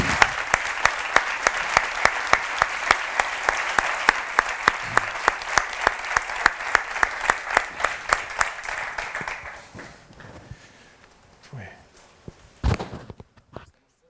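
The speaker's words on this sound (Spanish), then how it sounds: "Voy a pedir un fortísimo aplauso de agradecimiento por su presencia." An audience at an academic congress panel claps in sustained applause, dense and rhythmic for about ten seconds before thinning to a few scattered claps and faint movement.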